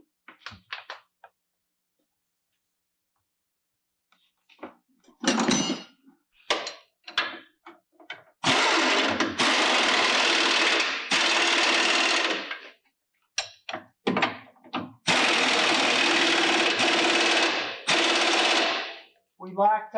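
Bolts with 15/16 heads are tightened during a G360 to NV4500 transmission conversion, likely with a power tool, giving sharp close bursts of rapid mechanical rattling separated by brief pauses and small clicks.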